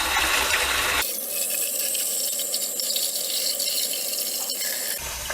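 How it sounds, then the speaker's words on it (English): Very hot tap water pours steadily over aquarium filter carbon during cleaning of an under-tank filter, a continuous close splashing rush with faint rattling of the carbon pieces, no talk. "I'm going to put finish off with extremely hot water,"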